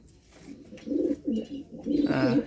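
Racing pigeons coo in soft, low repeated phrases at night, close by, with a brief brighter flutter near the end.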